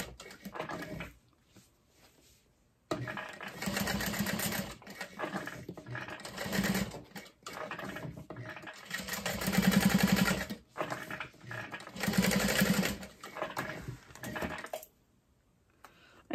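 A sewing machine top stitches a messenger bag in several uneven bursts of rapid stitching broken by short pauses and handling clatter, heard close without speech.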